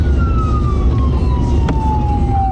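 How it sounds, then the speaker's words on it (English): An ambulance siren wails in a long, slowly falling tone over heavy, rumbling road and engine noise during record-breaking snowfall, loud and close throughout. "the ambulance was behind me with their lights and sirens"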